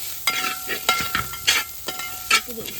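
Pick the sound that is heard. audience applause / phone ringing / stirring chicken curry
stirring chicken curry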